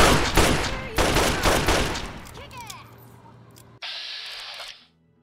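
Gunfire in the video game Fallout 3, a rapid fusillade of loud close shots in bursts that tapers off, followed by a brief hissing burst.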